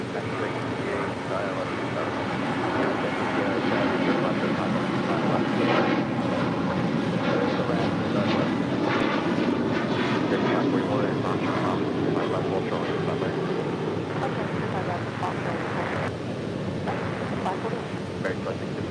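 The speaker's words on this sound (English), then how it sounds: "This flight coming in from Seattle, Washington, Alaska Airlines flight 1292 and the 737-800." An Alaska Airlines Boeing 737-800 inbound from Seattle arrives at LAX, its engines a broad, steady roar that swells and lingers from a middle distance, heard alongside someone speaking and crackling radio chatter.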